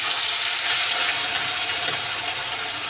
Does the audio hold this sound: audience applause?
no